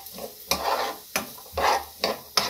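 Chopped onions go into hot oil in a pan while making Romanian sarmale, with bursts of sizzling as they are stirred, interrupted by sharp clanks of a utensil against the pot at irregular intervals.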